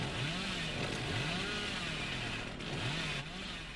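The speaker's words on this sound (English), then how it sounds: "Whoa, okay, he goes like down with a chainsaw." Billy's chainsaw from Dead by Daylight drones steadily with a wavering, revving engine pitch that rises and falls in repeated surges, fairly quiet and continuous throughout.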